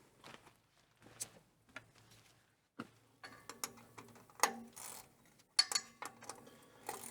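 Sparse metallic clicks and ratcheting clatter of a wrench working on fuel filters, scattered taps and bursts at close range, fairly quiet with gaps of near silence between them.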